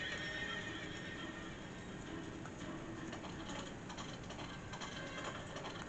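Princess Peach Showtime video game audio: a horse neighs loudly while hooves clip-clop steadily alongside mechanical ratcheting and gear-like clatter, dense and continuous throughout, with no talking.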